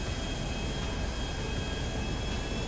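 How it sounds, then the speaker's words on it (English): A jet aircraft engine in the video game GTA 5 gives a steady, loud broadband roar with a faint high whine, continuous and unchanging throughout, with no speech. "Stop looking for me, I'm in a jet."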